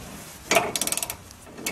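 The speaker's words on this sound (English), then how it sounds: "have someone hold the wrench from the inside and the other person on the socket and" A socket wrench ratchets in a quick run of about eight close clicks after a louder clack while a rear suspension bolt is tightened.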